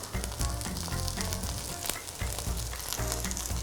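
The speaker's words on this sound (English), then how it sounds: "Now we're just gonna let the other side cook." Vegan gluten-free zucchini fritters frying in a pan, a steady crackling sizzle with popping oil, close and continuous with no talking.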